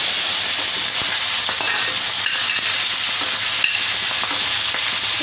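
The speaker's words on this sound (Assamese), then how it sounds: "ডিম ফ্ৰাই কৰা সেই একেখিনি তেলতে মই এই পিঁয়াজখিনি দি দিছোঁ" Chopped onions fry in oil left over from frying eggs, giving a steady, close sizzle and crackle with occasional stirring scrapes throughout.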